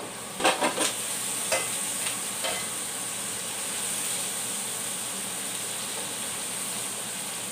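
Tomatoes go into a hot pan with sardines and moringa, a few sharp clanks and spatula knocks at first, then a steady close sizzle of sautéing that hisses on alone.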